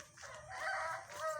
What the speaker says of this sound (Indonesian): Suara ayam guys, kongkorongok isuk berartinya